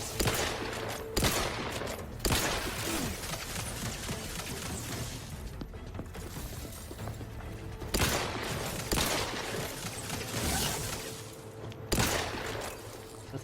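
Gunfire erupts in bursts during combat in the video game Outer Worlds 2, with loud rapid volleys and sharp single shots spread through the clip against a busy background of game noise.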